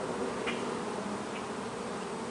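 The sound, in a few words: honeybees buzzing on a hive frame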